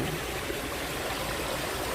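Water runs steadily through a summer garden stream lined with natural stones and moss, a continuous even rushing that stays close and uniform throughout, with no voices.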